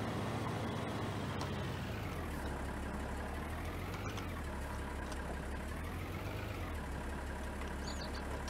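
A simple tractor in the video game Farming Simulator 19 runs with a steady low engine drone, its pitch rising and falling slightly as it moves.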